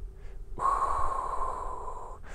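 A person breathing during a back exercise session, one steady audible exhale, close to the microphone, with a soft intake just before it.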